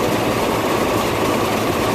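Engine idling at low RPM on a car being fitted with a 602 advance lock-out kit during ignition timing, a steady, continuous low rumble with an even drone and no change in pace.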